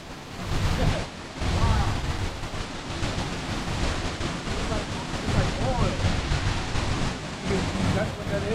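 Strong wind gusts at a waterfall in Los Reyes, Michoacán, Mexico, a loud continuous roar of wind buffeting the microphone mixed with rushing water, steady throughout.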